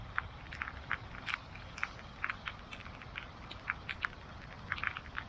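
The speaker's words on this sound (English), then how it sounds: "It is raining pretty nicely now." Rain falling at night by the water near the Belt Parkway, a faint steady patter with scattered small drips and ticks close by, with no talk.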